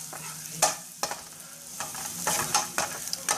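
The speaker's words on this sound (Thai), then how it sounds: "เราใส่น้ำมันปุ๊บเราก็ ใส่กระเทียมผัดให้มันหอม" Garlic stir-frying in hot oil in a wok for a Thai pork rad na dish, giving a steady close sizzle broken by several sharp scraping stirs of the spatula.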